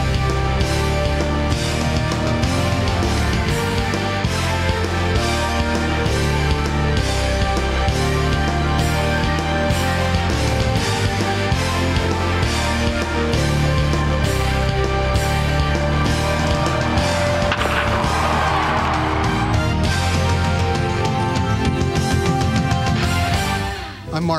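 Live American jazz trio on a return engagement, playing continuously at full, steady volume with dense rhythmic accompaniment and a melodic lead throughout, fading slightly only at the very end.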